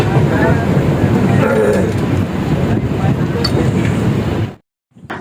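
A train pulls out of Kurduvadi station as a steady, loud rumble of wheels and wind fills the recording, with a brief sharp dropout near the end.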